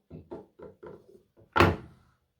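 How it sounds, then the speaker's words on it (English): A rotary table goes onto a milling machine table after the vise is removed. A run of soft metallic knocks is followed by one loud, heavy thud as it settles, close by and without speech. "So I've taken the vise off, and we're going to put the rotary table on."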